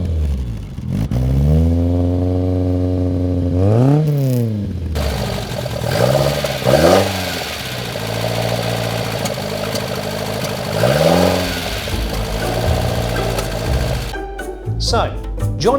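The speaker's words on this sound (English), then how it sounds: "Is there any chance we could hear the car starting up?" A Ford Escort Mk1 engine cranks, catches and revs in rising and falling sweeps, then settles into a loud, close, clattery idle before cutting off near the end.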